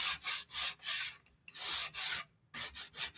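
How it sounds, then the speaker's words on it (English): Light sanding of a wooden sign with 120-grit sandpaper: rhythmic back-and-forth rubbing strokes, close and soft, in bursts separated by short pauses. "So just do a little light sanding."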